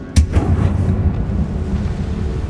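A Confringo blasting spell in Hogwarts Legacy goes off as a sharp, loud blast followed by a rumbling, crackling decay that fades over about two seconds.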